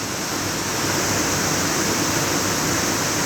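Water from a pump-fed lab flume pours over a weir in a flow-over-weirs and notches apparatus, giving a steady, loud, close broadband rush with no pauses.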